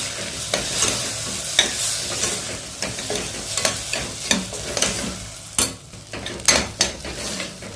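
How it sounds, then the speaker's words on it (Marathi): Indrayani rice being roasted with turmeric in a pan, a steady dry sizzle broken by repeated scrapes and stirring clinks of a spoon against the metal, close and fairly loud with no voices. "हळद, एकच मिनिट राईस भाजून घ्यायचं।"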